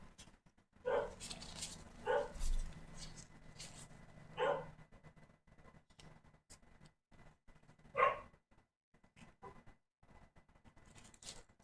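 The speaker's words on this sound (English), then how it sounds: "my dog barks endlessly, which is fairly miserable" Several barks from a suburban dog ring out in short bursts, spaced across a quiet stretch, fairly close and distinct against a low background hum.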